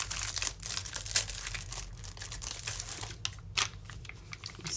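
Enamel puffy stickers being handled during paper card crafting, a steady close crinkling and rustling of plastic sticker sheets with small crisp snaps throughout, no voices.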